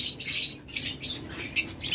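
Pet lovebirds or cockatiels call with shrill, high chirps and squawks in quick repeated bursts, close and fairly loud, with a rustle of wings between calls and no talk.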